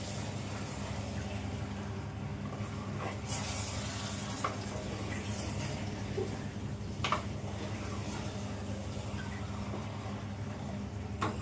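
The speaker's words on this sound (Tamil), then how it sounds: "கொஞ்சம் நல்லா எண்ணெயோட இந்த மசாலாவோட நல்லா வதங்கட்டுங்க." Chicken pieces sautéing in oil with a masala for chicken uppukari, giving a steady, moderate sizzle with soft stirring scrapes throughout and no talk.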